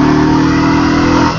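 A 15-year-old Royal Enfield Thunderbird motorcycle engine revs steadily and loudly up close, its deep, even drone holding throughout.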